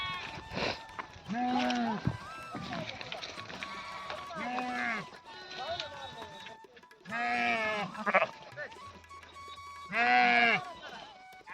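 Sheep and lambs bleat repeatedly at close range, loud wavering cries coming in several bursts among a flock, with people talking in between.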